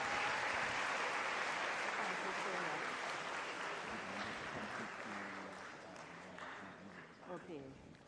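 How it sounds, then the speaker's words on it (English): An audience at a school graduation ceremony breaks into applause, a dense wash of clapping that slowly thins and fades toward the end, with a voice speaking over it. "Let's give them a round of applause."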